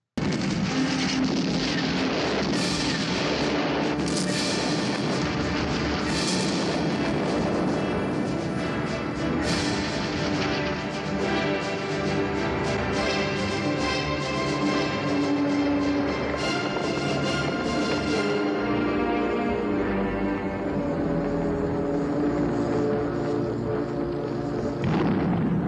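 Epic, dramatic orchestral score from an episode of the TUGS series, loud and dense, with booming percussive hits and sustained swelling tones running continuously for the full length.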